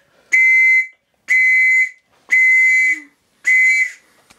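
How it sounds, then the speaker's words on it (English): An antique Victorian police whistle, a family heirloom, blows four shrill, steady blasts of about half a second each with short silences between them, loud and close indoors. "We have a proper Victorian police whistle in the house, which was a heirloom of the family"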